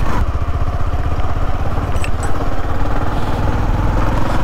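A modified Bajaj Platina 110 motorcycle engine labours steadily while climbing uphill on an offroad track, a close, loud, continuous pulsing drone with no talk over it.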